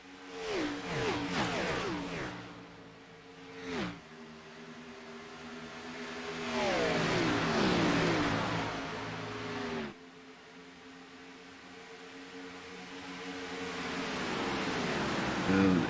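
Sim race cars circle the Charlotte oval in a racing video game, engines droning and shifting pitch as they pass, with a commentator talking over the steady car noise.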